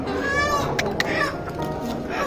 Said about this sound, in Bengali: এই মুরগিতে ডিমও পারছে।